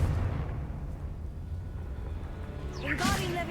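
A Confringo blasting spell goes off in the Hogwarts Legacy video game, a loud rumbling burst swelling over continuous game noise and ending in a sharp crackling blast near the close.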